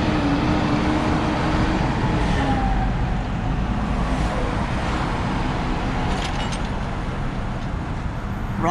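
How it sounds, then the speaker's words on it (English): Heavy highway traffic on Highway 84 on a Friday afternoon, heard from inside a moving car as a steady low rumble of road and engine noise with vehicles passing by. "Heavy traffic on a Friday afternoon."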